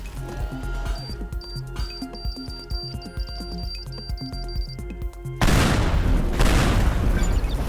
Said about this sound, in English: And then what if we just plant a bomb on it? Is that gonna go off?